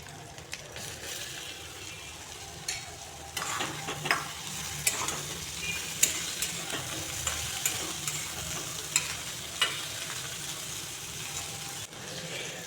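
Eggplant being stir-fried in a pan with puti fish, a steady sizzle broken by repeated scraping and clacking strokes of a spatula, close and moderately loud.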